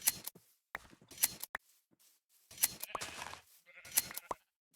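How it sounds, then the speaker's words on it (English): Sheep bleat in the Minecraft video game, several short, moderately loud bleats repeating at intervals among game sound effects and brief rustling noises. "Speaking of sheep."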